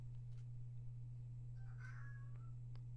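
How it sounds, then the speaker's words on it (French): A house cat calls with one faint, short meow amid a low electrical hum, distant and quiet, with no voices. "j'ai mon chat qui appelle"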